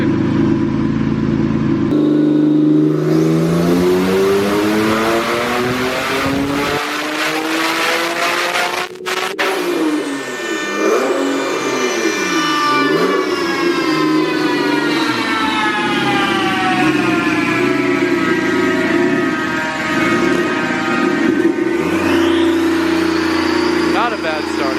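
A forged twin-turbo car revs hard on a dyno, the engine note climbing in a long rising sweep, then dropping and rising again with turbo whine. The run is loud and close.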